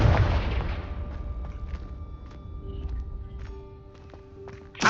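A Confringo fire spell explodes in the Hogwarts Legacy video game with a loud, heavy blast that rumbles and fades over several seconds, with steady tones and light clicks beneath, ending in a second sharp burst.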